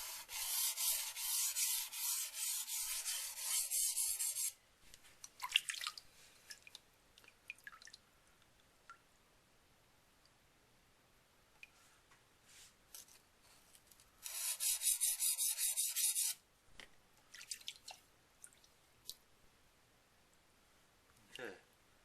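Knife blade being sharpened on a wet Nubatama whetstone while setting a micro bevel, two bursts of loud steady rasping strokes separated by quieter stretches of drips, clicks and handling.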